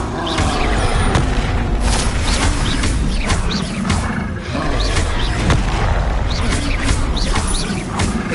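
Bombarda and Confringo blasting spells in Hogwarts Legacy go off in a dense run of loud booming explosions and crackling bursts with roaring rumble, continuous and overlapping throughout, with a voice faintly present at times.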